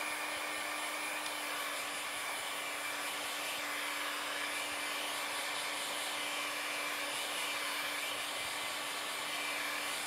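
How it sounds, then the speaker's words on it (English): A heat gun blows steadily on its lowest heat setting while shrinking window tint film on a Tesla Model S windshield, giving a constant, even airy whir with a faint tonal hum throughout and no talk. "I just found out my heat gun was only on the heat setting number one."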